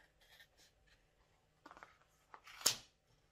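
Scissors cutting through a bundle of wrapped yarn for a pompom, a few quiet snips ending in one sharper cut.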